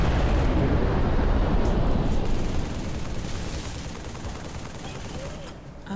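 Turret gun blasting nonstop in Halo 3, a heavy continuous roar of rapid fire that is loud at first and then eases off toward the end.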